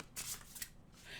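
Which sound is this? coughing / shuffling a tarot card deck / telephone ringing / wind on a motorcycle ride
shuffling a tarot card deck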